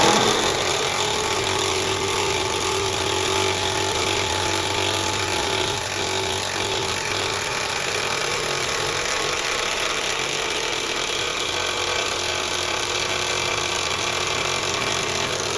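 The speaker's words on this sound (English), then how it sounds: "the third test is driving this 200mm coach screw into this thick bit of timber." An impact wrench drives a 200mm coach screw into thick timber, a loud, continuous hammering drone that runs close and unbroken with no talk.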